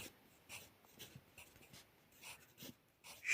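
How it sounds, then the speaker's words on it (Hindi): Pencil writing by hand on paper, soft repeated scratchy strokes in short bursts, quiet and close, no voices. "इधर मैं लिख लेता हूँ"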